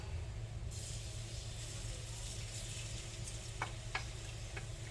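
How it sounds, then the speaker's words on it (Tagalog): Garlic sautéing in a little cooking oil, a steady close sizzle and crackle running throughout, with a few brief sharp ticks near the end. "Ilagyan ko na to ng konting mantika muna para maigisa natin yung ating bawang"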